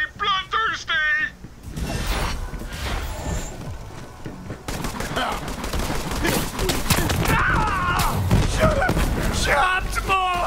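Gunfire in Borderlands 3 blends with heavy thumps and explosive booms in a chaotic firefight, loud and near, while game characters shout and talk over the battle.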